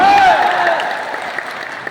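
Applause from the audience at a Jan Suraaj youth meeting in Bapu Sabhagar hall, Patna: a dense, loud burst of clapping that slowly thins out over about two seconds, with a brief whistle-like tone near the start.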